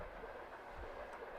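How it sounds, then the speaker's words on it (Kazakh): A train passes near a football arena during a second-league match, heard as a faint, distant rolling rumble with soft rail clatter, steady throughout with no talk. "Сыдықбек аренаның жанынан өтіп жатқан пойыздың дыбыстары да керемет."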